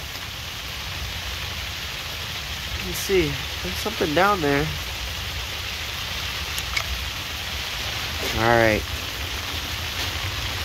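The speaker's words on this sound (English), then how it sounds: "It's like freezing rain, but like, I don't know if it's melting or freezing right now." Freezing rain falls through a January night in Minnesota, a constant hiss of drops hitting surfaces all around, while people talk briefly and quietly over it.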